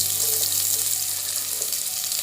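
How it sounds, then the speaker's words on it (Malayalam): Finely chopped shallots fry in hot oil in a pan for a Kerala-style beef curry, giving a loud, steady hissing sizzle close up with faint stirring underneath, and no one talks. "ഇപ്പോൾ എണ്ണ നന്നായി ചൂടായിട്ടുണ്ട്. അപ്പോൾ ഞാൻ അതിലേക്ക് ചെറുതായി അരിഞ്ഞു വെച്ച ഇത് ചുവന്നുള്ളിയാണ്"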